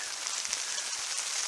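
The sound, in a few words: rain falling on a hot tent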